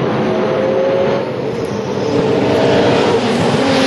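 V8 Supercars racing at the Abu Dhabi circuit roar past in a loud, continuous engine din, with whining revs rising and holding as cars push through the corners.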